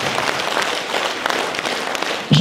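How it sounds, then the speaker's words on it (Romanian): Audience applause at a concert in Dondușeni, Moldova, a dense, steady wash of many hands clapping throughout, with a brief louder burst near the end. "o să vă rog să mai aplaudați un bărbat"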